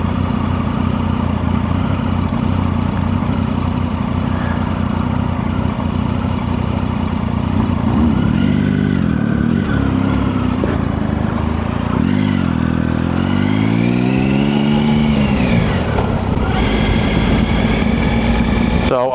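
Motorcycle engine droning steadily while riding at a bike night, a loud continuous hum with wind rush, pitch rising and falling with throttle changes, and a rider talking over it.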